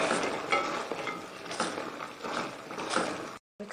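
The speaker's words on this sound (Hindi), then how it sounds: "अब इसमें फ्राई की हुई चिकन शामिल करके इसको मिक्स करते हैं।" Fried chicken stirred into a thick sesame sauce in a pan, soft repeated scraping and sticky mixing strokes with a faint sizzle, close and steady, pausing briefly near the end.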